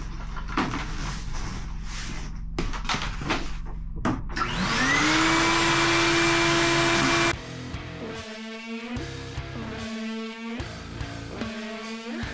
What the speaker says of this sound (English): get the vacuum going, clean up